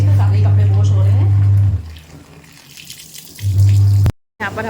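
A washing machine churning clothes and blankets at home, a loud steady drone that drops away briefly mid-clip, then returns before a short cutoff.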